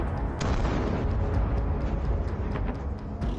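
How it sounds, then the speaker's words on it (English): Battlefield explosions around burning Russian tanks and armored vehicles rumble continuously, with repeated sharp cracks and pops scattered through a loud, heavy low roar. "Explosions were everywhere."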